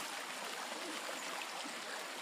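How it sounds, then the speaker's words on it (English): Jungle creek water at a low level flows and trickles continuously with a bright, hissing rush, close and steady, with no talking. "little creek here."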